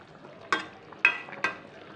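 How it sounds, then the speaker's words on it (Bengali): Three distinct spoon scrapes stirring chicken frying in a pan for a Bengali-style curry, close and evenly spaced over a soft background sizzle. "এবার আমি চিকেনটাকে একটু নেড়ে দেবো"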